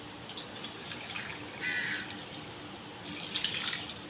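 Water pours and splashes into a rice cooker in a couple of short bursts, fairly close and moderately quiet, with a faint high tone above.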